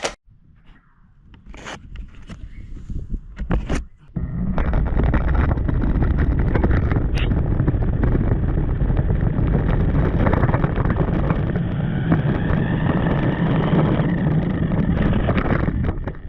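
A Ghostbusters Ecto-1 radio-controlled toy car on a test drive, its small electric motor giving a loud, steady whirring drone that starts after a few seconds of quiet handling noise and runs continuously to the end.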